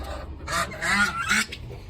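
Ducks call near their feed in a rural morning vlog, three short nasal honking quacks in quick succession, close and moderately loud.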